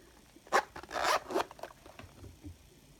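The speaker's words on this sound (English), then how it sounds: "an oversized leather zipper case with a YKK zipper" A YKK zipper on an oversized leather lock pick case is drawn in a few quick rasping pulls, close and fairly quiet with nothing else sounding.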